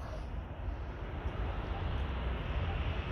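An Air Caraibes Airbus A350-900 jet taxis toward the runway at Orly airport, a steady broad engine roar and rumble heard from a distance with wind buffeting the microphone, no other sounds standing out.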